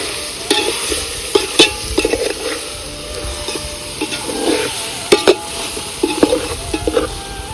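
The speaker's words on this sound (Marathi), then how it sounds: "मसाल्याच्या ग्रेव्हीत चांगलं परतायचं चाललंय ते मासा आपलं." Fish stir-fries in masala gravy in a pan, a continuous close sizzle under repeated scraping and clinking strokes of a spatula against the pan, with no talk.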